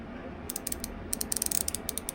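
Hand ratchet clicking as fender flare bolts are backed out on a Ford Ranger, with short bursts of rapid metallic clicks separated by pauses, close and fairly quiet.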